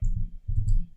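Crisp computer mouse clicks during graphic design work, a couple of short close taps against an otherwise quiet desk background, with no speech.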